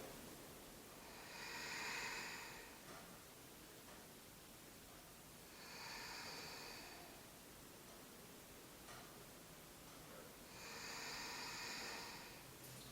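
Slow, steady breathing held during a yoga squat, three soft airy breaths spaced several seconds apart, faint and close over a quiet hiss, with no talking.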